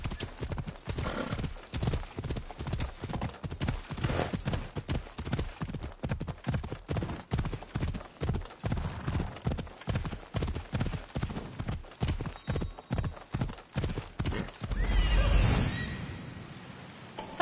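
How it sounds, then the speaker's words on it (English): A sturdy horse's hooves clip-clop in a steady, even rhythm for a long stretch, with a brief whinny near the end, moderately close and clear. "Looks like a sturdy horse."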